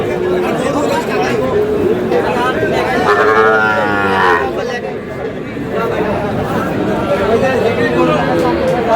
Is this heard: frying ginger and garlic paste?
no